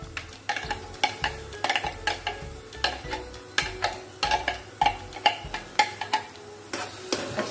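A spoon stirs crushed tomatoes with garlic and green chilli in a pan for chole, giving a regular rhythm of close scraping clinks against the metal over a light sizzle.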